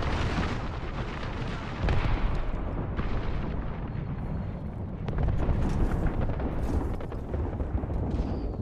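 An artillery barrage pounds down in the battle royale shooter Apex Legends, a dense, continuous roar of overlapping blasts and rumbling explosions that swells in several loud waves over about nine seconds.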